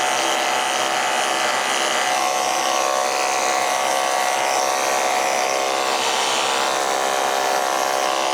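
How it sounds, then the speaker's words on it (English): Electric clippers buzz steadily and loudly while grooming a Scottish Terrier's coat, a constant high motor whine with no breaks. "And I'm just doing that with the clipper."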